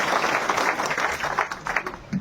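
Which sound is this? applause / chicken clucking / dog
applause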